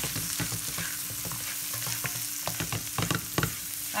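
Grated coconut sautéing in a pan with chopped cilantro for coconut rice, a close, steady soft sizzle broken by light scraping stirs, with no talk.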